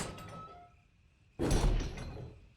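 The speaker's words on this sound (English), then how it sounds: "did you hear those doors opening?" Doors swing open in the Resident Evil 1 Remake game: a quiet tonal stretch gives way to one sudden loud, heavy door sound with a rumbling low tail that slowly fades.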